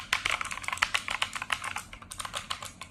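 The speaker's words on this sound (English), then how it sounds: "This keyboard has that clickety clackety feel." Rapid typing on a Rapoo GK500 mechanical keyboard, a dense run of crisp clacky keystrokes, close and steady with no talk.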